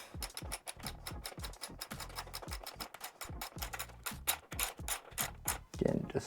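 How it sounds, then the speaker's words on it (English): An 8mm ratchet socket tightens a cover bolt on a Kawasaki KLX 150 motorbike, rapid close clicking of the pawl in bursts with short pauses between strokes, and no talking. "Then finish it off with an 8mm socket."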